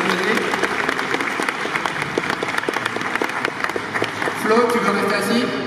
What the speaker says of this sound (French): Je vais m'applaudir.